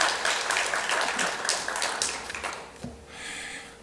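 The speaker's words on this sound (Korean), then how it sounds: "박수 해주시기 바랍니다." A church congregation at a Sunday morning Methodist service applauds, a moderate patter of clapping that thins and fades out after a few seconds, leaving quiet room tone.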